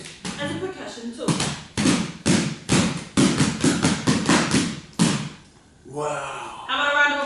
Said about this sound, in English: once beaten up against the palm and the hand, it is also used as a percussion tool